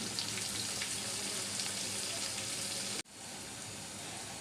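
Chunks of bitter gourd fry with turmeric in hot oil, giving a steady hiss and sizzle up close that cuts off abruptly and then resumes more quietly.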